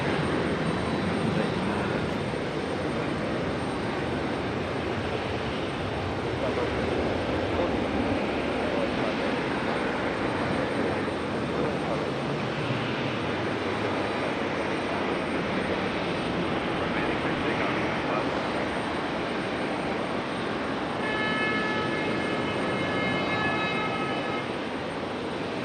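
An airliner takes off at Raleigh-Durham International Airport, a long, steady jet engine roar heard from a distance that holds throughout, with a voice talking faintly underneath.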